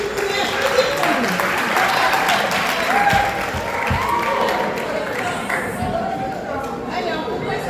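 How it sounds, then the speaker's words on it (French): An audience at a Brazzaville event claps steadily throughout, with crowd chatter and a voice mixed in under the applause. "vous pouvez applaudir"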